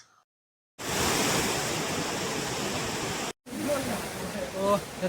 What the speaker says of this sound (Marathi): आता आपण आलो तिसऱ्या वॉटरफॉल पाशी.